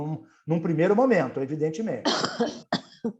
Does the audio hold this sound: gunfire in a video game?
no